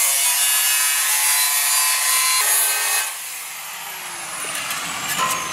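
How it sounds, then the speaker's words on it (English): A high-pitched angle grinder whines and grinds harshly against metal for a few seconds, then spins down with a falling tone as the cutting stops, during roll bar work on a Mazda NB Miata. "Just cut it with an angle grinder."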